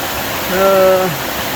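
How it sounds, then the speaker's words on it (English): Small rain-fed waterfalls along the Ozark Highlands Trail give a steady, even rush of falling water throughout, with a brief voiced sound rising over it near the middle. "Well, one thing about all the rain, sure get a lot of good looking little waterfalls."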